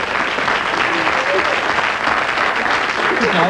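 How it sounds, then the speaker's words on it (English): A quiz show audience gives dense, loud applause for a contestant named Joe, continuous and even throughout, with voices mixed faintly underneath. "So a big round of applause for Joe."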